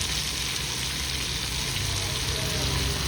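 Spices and aromatics sauté in oil for a country chicken pepper rasam, making a constant dense sizzle close by, even and unbroken, with no voices.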